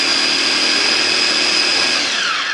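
An electric blender grinds red curly chilies, red and green bird's eye chilies, garlic and shallots, its motor a loud, steady whirring roar that holds without a break throughout, with no talking.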